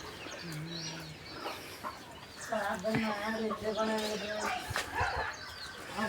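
A chicken clucks in short, scattered calls around a farmyard, mixed with other bird sounds and a voice talking over them at moderate distance.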